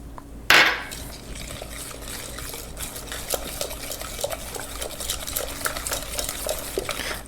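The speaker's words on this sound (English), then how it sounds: "this is why I love this tiny little whisk" A tiny whisk beats vanilla into brownie batter. A sharp clink comes first, then a steady stream of quick, close scraping and tapping strokes against the bowl.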